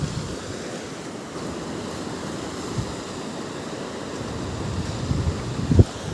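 Sea waves roll onto the shore at Ratneshwar beach, a steady rushing surf with wind noise on the microphone and a slightly louder wash near the end, with no talking.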